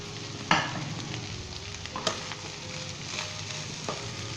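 A spoon stirs beef keema with chopped bell peppers in a hot pan, giving a quiet sizzle with occasional scraping clinks and a few sharper knocks against the pan, with no talking.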